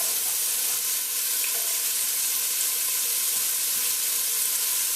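Chopped onion sizzling in about a tablespoon of vegetable oil, a steady close crackling hiss with no let-up and no talk over it.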